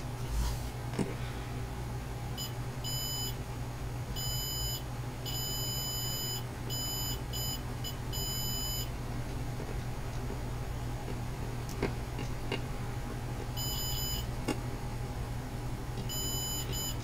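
A buzzer on a cheap Arduino all-in-one shield gives short repeated electronic beeps in bursts, fairly faint over a steady hum and background noise.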